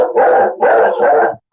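A dog at an animal shelter gives three quick, loud, close barks in a short burst, each a rough yelping bark.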